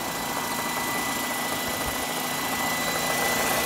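Steady, close idle of a 1996 Mercedes-Benz C220's 2.2 liter engine, a dense, unbroken drone with faint mechanical whine running evenly throughout.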